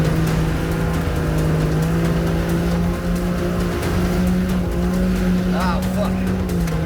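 A two-wheel-drive car powers at speed along an abandoned, boggy track, its engine droning loud and steady throughout, with a brief tire squeal and faint voice near the end.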